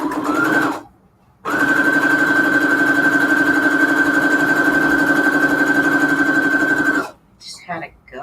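A sewing machine stitches fabric scraps together in a steady, close mechanical whir that starts, stops briefly, then runs unbroken for several seconds before cutting off, with a faint voice or handling noise afterward.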